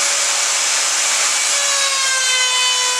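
A power tool cuts a rebate into wooden moulding with a guide block, producing a continuous loud high whine with steady rasping from the wood and no speech.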